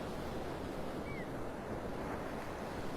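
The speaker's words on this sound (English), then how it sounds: "We've been listening to those waves all morning this morning." Ocean waves on a Gulf beach under stormy skies, a dense, steady roar of surf mixed with wind noise on the microphone, continuous and fairly loud with no clear individual breaks.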